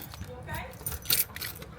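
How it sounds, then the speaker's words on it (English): Keys jangle close by in a few quick metallic bursts while someone gets ready to leave for the airport, with people talking over and around the rattling. "Yeah, I just had to get my keys."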